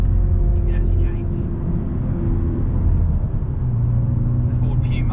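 A Volkswagen Golf R Mk7 with a manual gearbox drones steadily while driving, a loud continuous low engine and road rumble filling the cabin, with faint higher noises near the start and end.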